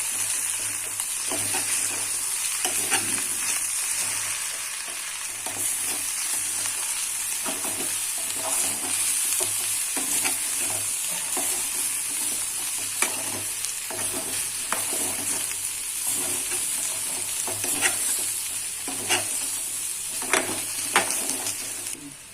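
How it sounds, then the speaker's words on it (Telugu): Potato curry frying in oil in a pan, a continuous loud sizzle with repeated scraping stirs of a spoon throughout, no voices. "ఆలు మంచిగా ఫ్రై అయిపోయింది."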